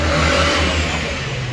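A Volkswagen Gol with a 1.0 engine revs loudly and close by at a used car fair, a steady, sustained engine roar with no speech.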